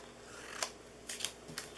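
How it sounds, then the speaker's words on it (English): Scissors cutting snowflake-patterned paper for a gnome treat box craft, a few quiet crisp snips close by, spaced unevenly over under two seconds. "So I'm going to just cut that"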